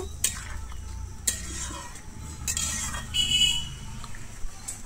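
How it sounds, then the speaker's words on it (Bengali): A spoon stirs egg curry with potatoes and ground garam masala in a pan, with scraping strokes against the metal over a low simmering sizzle, plus a few sharper clinks. "গুঁড়ো গরম মশলাটা দিয়ে আমি আবারও খুব ভালোভাবে এখানে মিশিয়ে নেব"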